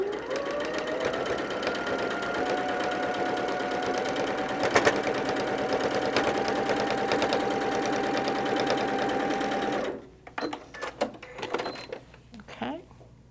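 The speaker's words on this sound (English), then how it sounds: "we're going to stitch a 1/4 inch seam right down the middle" A sewing machine stitches a quarter inch seam in a quilt block, running as a steady, close, rapid mechanical whir for about ten seconds before stopping into a few clicks and handling sounds.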